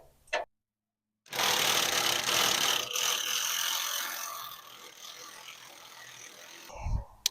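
Impact wrench with a 3/4 inch impact socket hammering at a rusted spring bolt on a 1965 C20 truck, a loud rapid rattling burst running several seconds and tapering off, no talking.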